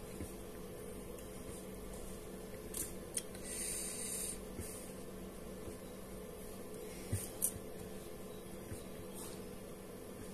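A hot air blower works over a Redmi 9T circuit board to loosen the IC shield, giving a steady, quiet airy hiss throughout, broken by a few faint clicks and brief bursts.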